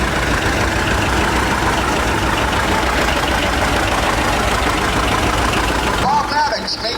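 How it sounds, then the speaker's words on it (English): A 1940 Minneapolis Moline Model R 20-horsepower tractor runs loud and steady in an evening lighted tractor parade, with crowd noise and an announcer over it. "the Minneapolis Moline Model R 1940, 20 horsepower, built in 1939"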